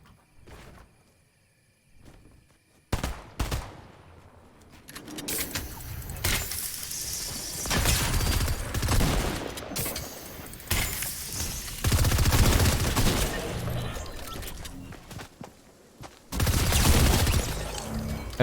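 Rapid-fire pistol shooting in Fortnite, dense sustained bursts of quick shots after a quiet opening with a few scattered game sounds, loud and continuous with brief pauses between volleys.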